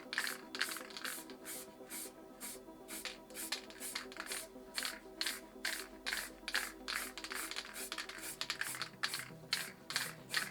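Short, rhythmic bursts of purple spray paint hiss from an aerosol can fitted with a misting cap, about twenty quick puffs in a row, close and crisp, with no one talking.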